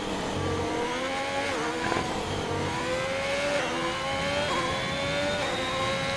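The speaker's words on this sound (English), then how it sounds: "Gets on the throttle nice and early." An engine accelerates hard in a racing video game as a race car on soft-compound tyres drives a lap in Britain. The engine note climbs in pitch and drops back through repeated gear changes, loud and continuous, with no voices.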